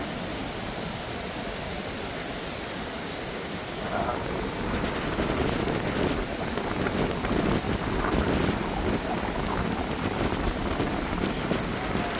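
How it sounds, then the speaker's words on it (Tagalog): Strong wind buffets the microphone in a constant roar on a beach on Boracay island, growing louder and gustier partway through, with no clear voices. "Basta hangin guys."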